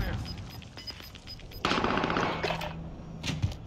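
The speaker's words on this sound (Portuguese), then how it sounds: "outro cara de longe me dá um monte de tiro" Automatic gunfire from a shooter video game comes in rapid, rattling bursts that build into a denser volley partway through, set over steady in-game background noise.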